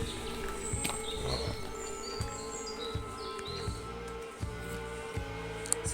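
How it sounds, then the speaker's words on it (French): Birds sing and chirp on a morning outdoor route, with several thin, high calls scattered through a steady, fairly quiet background and no talking. "on entend bien les oiseaux"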